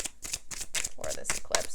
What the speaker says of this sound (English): Let's pull an advice card here